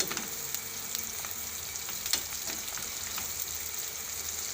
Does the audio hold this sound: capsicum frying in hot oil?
yes